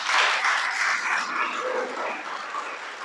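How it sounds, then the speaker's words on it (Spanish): An audience claps steadily through a Spanish-language gospel teaching session, dense broadband applause close and loud, with no voices over it. "Dale un aplauso, pues."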